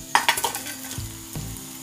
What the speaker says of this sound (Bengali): মাছগুলোকে ভালোভাবে লাল করে ভেজে নিতে হবে।